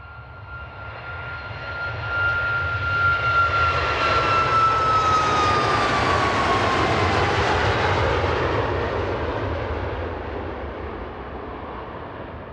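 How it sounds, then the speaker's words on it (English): A Sun Express airliner rolls down the runway after landing at Manchester Airport, its engines roaring in loud reverse thrust with a whining tone that sweeps down, swelling over several seconds and then easing off at a distance. "I was turning my volume up so we could hear the reverse thrusters"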